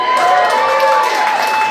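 Audience at a live stand-up comedy show applauding and cheering, a dense steady wash of clapping and whoops from a crowd filling the room for under two seconds.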